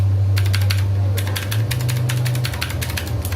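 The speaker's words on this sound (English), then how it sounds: "So first I'm gonna try the arrow keys here," Quick, irregular clicks of arrow keys pressed on a keyboard fitted with Milk White PBT keycaps, coming in short bursts close to the mic over a steady low hum.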